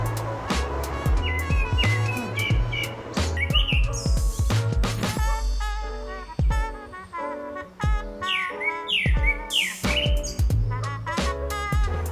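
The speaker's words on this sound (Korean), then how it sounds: "새소리 들으면서 차 안에 누워있으니까" Birds chirp and tweet in repeated bright bursts outside a car at a summer campsite, close and fairly loud over a low rumbling hum, with no talking.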